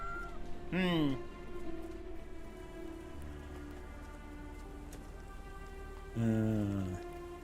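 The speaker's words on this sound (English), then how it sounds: "Sleepy kitten?" A kitten meows twice inside the Sherlock Holmes The Awakened horror game: a drawn-out cry near the start and another near the end, clear over a steady ambient bed with light rain.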